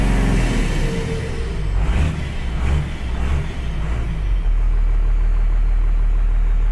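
A Dodge diesel truck with straight-piped exhaust idles, heard from inside the cab: a deep, steady low rumble with a brief swell and settle midway, alone with no talk.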